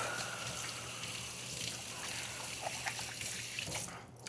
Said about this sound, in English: All right, wash my hands again.